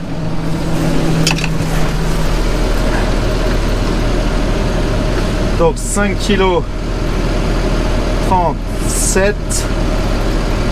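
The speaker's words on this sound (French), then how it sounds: "on remonte dans le tracteur" A farm tractor engine idles with a steady low drone during direct seeding of wheat and barley under cover, while someone talks over it throughout.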